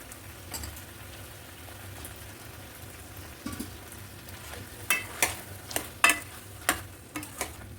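Brinjal and potato pieces fry in oil in a pan, a low constant sizzle broken by a series of sharp spatula scrapes and taps near the end, close by, with no talking.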